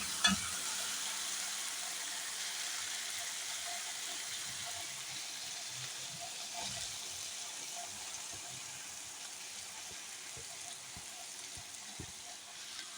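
Okra (bhindi) frying in ghee with tomato on a lowered flame: a steady, quiet hiss of sizzling with faint scattered stirring taps running for several seconds.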